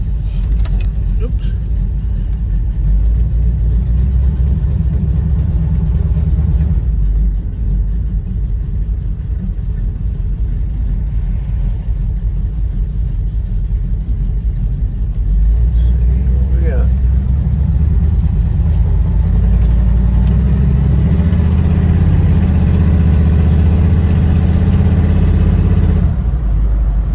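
A 1979 Chevrolet Suburban running on a test drive, a loud, steady low engine drone with road rumble and a brief shift in tone partway through, heard close from inside the vehicle.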